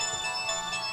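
An incoming call ringtone on a phone, a faint continuous electronic melody with steady tonal lines, heard briefly and quietly without speech.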